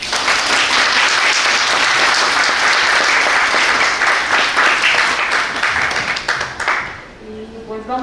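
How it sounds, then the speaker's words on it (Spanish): Loud, sustained applause from an audience at a pedagogy college graduation colloquium, a dense wash of clapping that holds steady for about seven seconds before tapering off near the end. "les pedimos con otro fuerte aplauso a nuestra querida Alma y a nuestra querida D"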